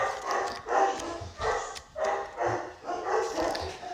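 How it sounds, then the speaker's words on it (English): Several dogs bark indoors in a quick repeated series of sharp woofs and yips, steady in rhythm and moderately close, with no talking over them. "my dogs are freaking out, of course."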